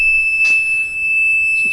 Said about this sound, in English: So we gotta adjust the powder, the alarm to the powder.